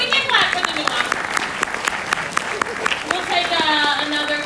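Audience applause at a question-and-answer session for The Hate You Give, a steady wash of clapping from a crowd with voices and cheers mixed in, swelling again near the end.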